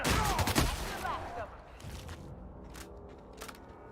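Shotgun blasts in The Outer Worlds: a loud cluster of heavy shots up front, then a fading tail with a few sharper cracks and mechanical clicks, voices murmuring faintly beneath.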